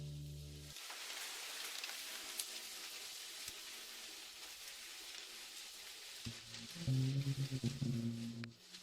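Heavy rain falls steadily as a dense hiss that runs unbroken through the whole stretch, with a low rumble and faint tonal sounds coming in near the end.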